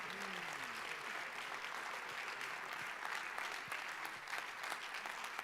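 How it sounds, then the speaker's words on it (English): Steady applause from the audience at an award ceremony, dense and continuous for the whole stretch, with a brief voice near the start. "Please, round of applause for him"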